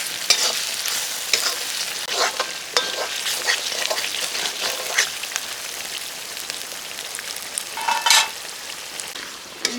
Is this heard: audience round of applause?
no